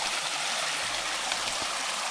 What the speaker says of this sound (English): you cross the stream where it's got all the steps